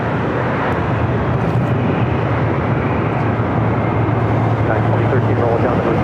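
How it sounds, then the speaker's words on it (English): A Delta Boeing 757 taking off from runway 25 right at LAX produces a steady, loud roar with a deep low rumble that holds constant throughout. "Delta 757 to 300 now taking off on 25 right."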